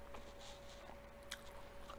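Close, quiet chewing of crunchy cauliflower patties and chips with soft crunchy bites, a few crisp crunches standing out against a faint steady hum.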